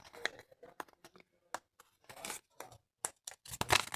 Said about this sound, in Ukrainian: А ми відкриваємо наш пакетик.